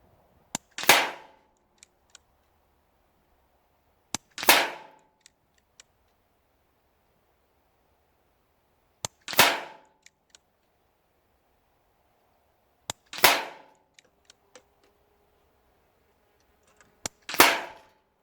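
A Daystate Redwolf air rifle fires 7.87 grain JSB pellets in five crisp, isolated shots, each a few seconds apart with faint clicks of handling between them in a quiet setting.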